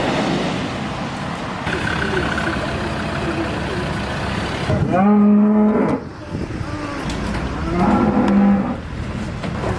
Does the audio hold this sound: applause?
no